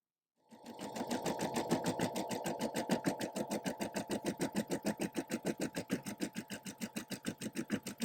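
An embroidery machine starts up and stitches, a close mechanical hum with a fast regular chattering pulse of needle strokes that keeps an even rhythm throughout.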